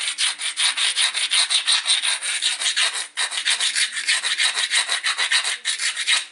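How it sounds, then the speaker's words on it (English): An edge of flint is ground for pressure flaking with a steady, rhythmic rasping scrape, close and loud, repeating in quick even strokes with a brief pause midway. "I'm a huge believer that there's no such thing as over-grinding."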